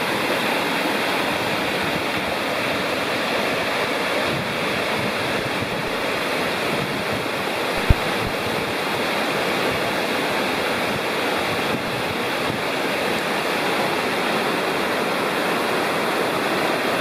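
Rocky Fork Creek rushing beside a hiking trail, a steady broadband wash of flowing water that stays even and fairly close throughout, with no voices.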